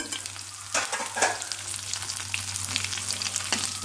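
Cumin seeds and dried red chillies crackle and sizzle in hot oil, a close, steady frying hiss punctuated by a few sharp stirring scrapes.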